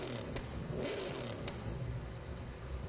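A car engine in a video game starts and revs, a moderate whirring rise with a few sharp clicks early on, steady and mid-distance without talk.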